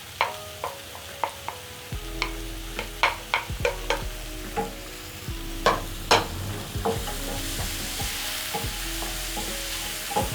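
Tomatoes tipped into a pan of garlic frying for a lentil curry, a steady sizzle with repeated sharp spoon-scrape and stirring clicks, close and alone with no talk.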